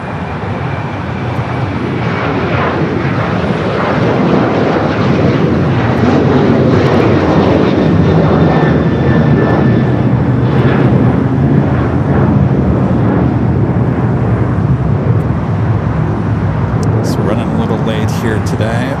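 A heavy jet airliner roars down runway 25 right at LAX on takeoff, a loud, sustained broadband rumble that holds throughout while voices talk over it.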